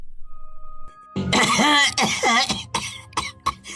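A sudden burst of harsh, throaty coughing after a quiet moment, several rough coughs close to the microphone, trailing off with a few shorter ones.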